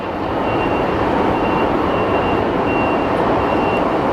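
A jet airliner arriving from Nashville at Phoenix Sky Harbor Airport produces a loud, steady engine roar that holds at an even level from start to finish, with no voices over it.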